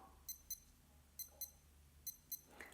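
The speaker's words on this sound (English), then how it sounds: "it has the alarm function. I actually have the alarm set for 5:30 p.m. every day" A wristwatch alarm sounds as three pairs of short, high electronic beeps at a steady rhythm, faint and alone in a quiet room.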